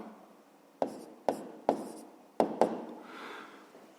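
A pen or chalk strikes and scratches out short strokes while a maths solution is written, five sharp taps each trailing into a scrape, fairly quiet and close, then a soft rubbing.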